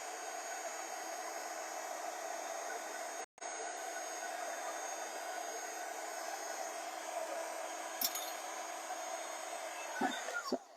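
A handheld heat tool blows hot air onto the back of a handmade card, a steady close fan hiss that holds almost unbroken, with a brief cutoff and a few small clicks near the end.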